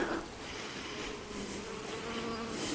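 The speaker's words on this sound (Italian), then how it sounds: "State vedendo le api che fanno sempre il suo lavoro, guardate le api" Bees buzz steadily around flowering violet cauliflower of Catania in a Sicilian garden, a continuous close insect drone with wind and outdoor ambience, no talking.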